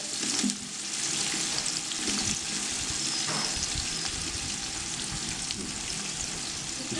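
Onion frying in hot oil for chicken biryani made with GST bullet rice, a dense steady sizzle with a few louder stirring bursts near the start.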